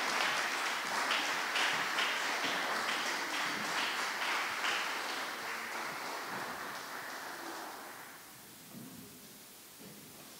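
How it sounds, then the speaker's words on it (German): Audience applause at a school award ceremony, a dense steady patter of many hands that stays loud for about eight seconds, then thins out and fades toward the end. "Nochmal einen kleinen Applaus"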